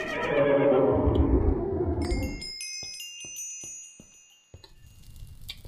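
A horse in Minecraft with the Mo' Creatures mod gives a loud whinny, followed by faint tinkling chimes and soft ticking clicks in a quiet game scene.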